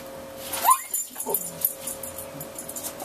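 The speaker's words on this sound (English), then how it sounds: "Just stepped in my dog's foot." A dog yelps sharply after its paw is stepped on, one high cry followed by brief whimpers, close by during an electric all-grain home brew of an Irish red ale, with faint voice and background hum.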